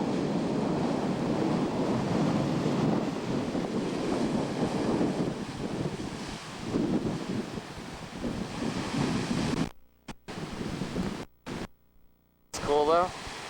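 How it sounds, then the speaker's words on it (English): Strong wind batters the microphone on an Irish coast, a loud continuous roar with surf-like rushing, which drops out in choppy gaps near the end. "It's really windy."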